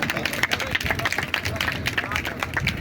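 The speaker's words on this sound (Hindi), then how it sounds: "मैं चाहता हूं कि उन दोनों बेटियों के लिए एक बार जोरदार तालियां हो जाए सदन से।" Members of a legislative house clap in a dense, crackling burst of applause, with murmured voices mixed underneath.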